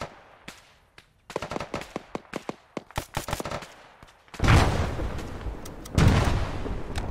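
Automatic and single-shot gunfire in an Arma III combat scenario, a close sequence of sharp rapid shots giving way to heavier sustained bursts and booming blasts, loud and dense with no talking.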